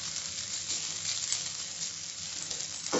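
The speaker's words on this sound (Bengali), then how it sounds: "এবার মাশরুম এবং ক্যাপসিকাম সেদ্ধ হয়ে এসছে এবং এটা সুন্দরভাবে ভাজা হয়েছে।" Mushrooms and capsicum fry in a pan for a restaurant-style mushroom pepper fry, giving an even, continuous close sizzle and hiss with no pauses.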